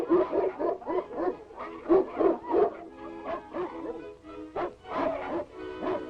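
A dog barks and yips in a quick, repeated run of short, fairly close barks with brief pauses, mixed with a few whimpering cries, in a scene from a 1937 film.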